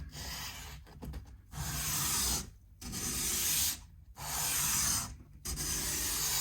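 A Tusq guitar nut is sanded down to fit a Squier Affinity Strat, giving close, steady rasping strokes in several bursts with short pauses between them and no talking.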